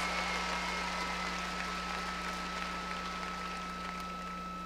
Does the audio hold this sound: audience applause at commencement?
yes